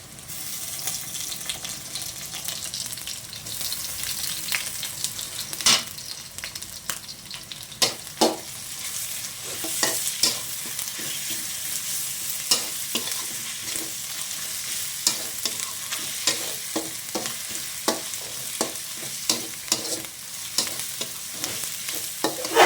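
Ginger frying with beef in a pan, a continuous close sizzle broken by repeated sharp scrapes and clacks of a stirring spoon, loud and busy with no voices.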